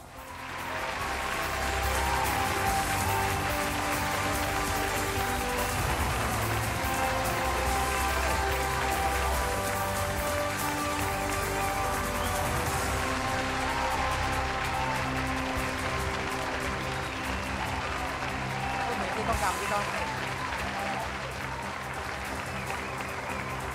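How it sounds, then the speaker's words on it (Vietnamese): Sustained audience applause at a beauty pageant award ceremony, steady and dense clapping from a large crowd that continues for over twenty seconds with music underneath. "một tràng pháo tay nữa chúc mừng cho bạn mang số 7, Khát Linh Ngọc Tâm Thanh"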